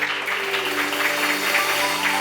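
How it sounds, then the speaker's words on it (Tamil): An audience at a Bible study gathering claps, giving a dense, steady patter of many hands that holds at an even level for a couple of seconds. "கைத்தட்டுங்க ஒருவருக்கு."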